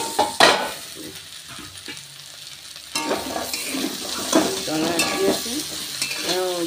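Fried potatoes stirred in a covered pan with kudri, a sizzling fry under scraping spatula strokes and light clinks of utensils against the pan, continuing throughout with a brief louder clatter early on.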